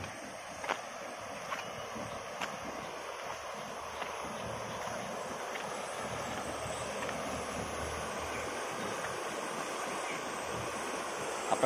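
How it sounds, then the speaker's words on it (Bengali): Rainwater from an overnight downpour rushes down into a canal as a steady, even roar of flowing water, heard from some distance and fairly faint, with occasional small ticks on top. "ওখানে যা পানি যা নামছে হড়মড় হড়মড় করে"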